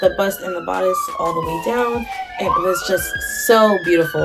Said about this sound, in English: I'm so sorry for the sirens.